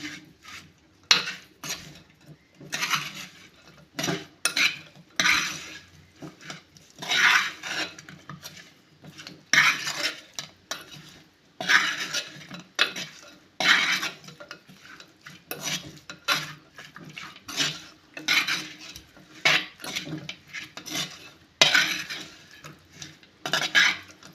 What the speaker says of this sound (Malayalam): ശേഷം ഞാനിതൊന്ന് മിക്സ് ചെയ്ത് വയ്ക്കുകയാണേ